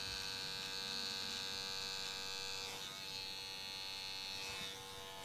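Electric hair clippers buzz steadily while shaving the outline of a short tapered clipper cut, a close, constant mains-like hum with slight shifts in pitch as the blades move across the hair, no talking heard.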